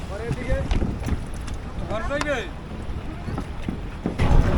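A wooden rowing boat pushes off across the polluted Buriganga river in Dhaka, with water sloshing, wind buffeting the microphone and a knock near the end, while voices call out nearby.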